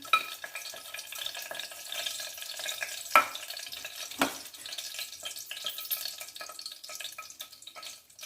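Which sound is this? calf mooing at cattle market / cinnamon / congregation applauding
cinnamon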